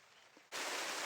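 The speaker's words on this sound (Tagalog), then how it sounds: "Lumakas na yung ulan" Quiet video game ambience suddenly gives way to a loud, steady hiss of heavy rainfall that fills the sound, close and constant.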